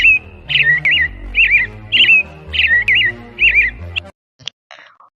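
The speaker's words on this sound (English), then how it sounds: "And the birds would sing beautiful songs." Birds singing as a story sound effect, a clear, loud series of about six repeated warbling chirps in a steady rhythm, then a few brief faint chirps trailing off.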